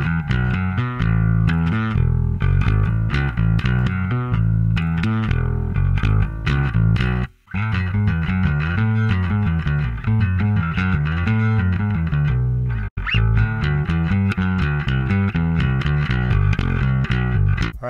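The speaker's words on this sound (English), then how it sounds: "I'm going to be playing this 1980 original Rickenbacker bass" A 1980 original Rickenbacker bass plays a driven, gritty line with effects, a continuous run of punchy notes with two brief breaks, loud and alone without talk.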